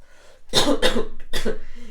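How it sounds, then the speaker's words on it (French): Three harsh, close coughs in quick succession, each a rough burst of breath, with no talking. "ça me fait tousser"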